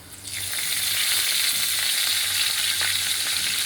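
Curry leaves hit hot oil in a kadai and break into a loud, steady, hissing sizzle that holds without pause.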